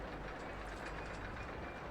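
A small shuttle train runs between two stations in a theme park video game, giving a steady, continuous rolling rumble with no voices over it.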